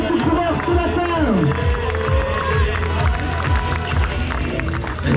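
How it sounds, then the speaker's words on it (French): Spectators at the Raid Cathares trail race near Carcassonne cheer and clap for passing runners, an energetic crowd din with overlapping shouts and voices talking over it, close and loud throughout. "Allez, je vais entendre la foule en délire."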